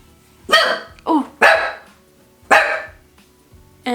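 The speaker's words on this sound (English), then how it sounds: "that's what happens every time I get a package at the door. My dog freaks out" A dog barks several times in sharp, loud bursts near the front door as a package arrives, with short pauses between the barks.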